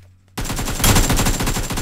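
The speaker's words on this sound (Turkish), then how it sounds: "Silah sesleri ben duyuyorum." Rapid gunfire in a battle royale video game, a dense burst of shots that starts abruptly after a quiet moment and keeps up loudly to the end, without speech.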